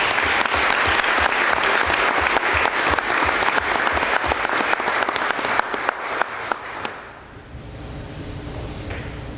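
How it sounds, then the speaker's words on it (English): Audience at a school board meeting giving a big round of applause, dense sustained clapping close by that thins out and fades toward the end. "Let's give everyone another big round of applause."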